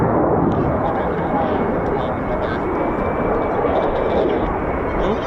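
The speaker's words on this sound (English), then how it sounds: "We're on F-35" F-35 fighter jet flying near RAF Lakenheath, a loud continuous engine roar filling the whole clip with steady broadband rumble, close and sustained without a break.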